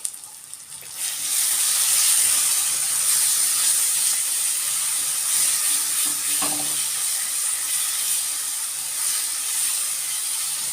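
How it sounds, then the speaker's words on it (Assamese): Ground mustard paste being stirred in a hot frying pan while cooking a small-fish chorchori, with a steady, close sizzle and frying hiss that holds throughout after a quieter first second. "এতিয়া অকণমান লৰাই ল'ম আকৌ।"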